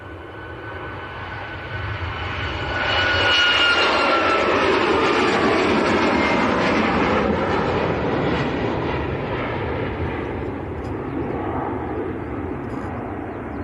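A Ryanair jet airliner bound for Malaga roars at Leeds Bradford Airport, its engine rumble swelling to a loud, sustained broadband roar, then holding steady and slowly easing off as it moves along.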